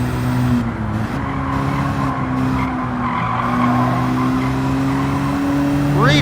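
A Mazda race car in Gran Turismo 7 drives steadily, its engine holding a continuous droning tone with a brief rising whine near the end, over constant tire and road noise.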